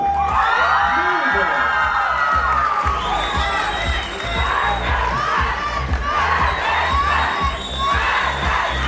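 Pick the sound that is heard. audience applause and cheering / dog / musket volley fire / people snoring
audience applause and cheering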